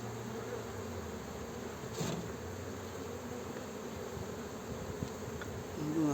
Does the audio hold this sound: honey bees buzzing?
yes